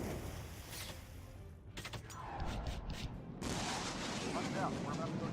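Enemy missiles launch in the Sky Gamblers Afterburner aerial combat game on Nintendo Switch, heard as rumbling blasts and rushing whooshes over a steady jet roar, fairly loud with a brief lull midway.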